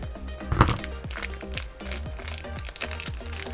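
Plastic toy packaging for a Grossery Gang Series 4 Bug Strike Army crate being cut open, a sharp crinkling crunch near the start followed by lighter rustling and small crackles, close and alone.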